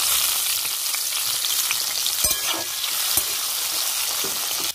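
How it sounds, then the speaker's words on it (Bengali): Eggplant pieces fry in hot oil for a Bengali shukto, a loud, steady sizzle filling the whole stretch, with a few faint clicks of stirring. "এখন খুব ভালো করে ভেজে নেবো আমরা বেগুনটা।"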